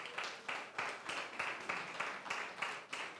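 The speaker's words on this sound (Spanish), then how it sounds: "Denle un aplauso al Señor." A church congregation claps in a steady, even rhythm, a run of about ten evenly spaced bursts that stay moderately quiet throughout.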